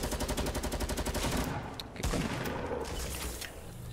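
Rapid automatic gunfire from the video game Fortnite, a dense fast burst of shots running continuously for several seconds, loud and close, with a brief break in the middle before the shooting resumes.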